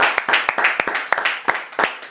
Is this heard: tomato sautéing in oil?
no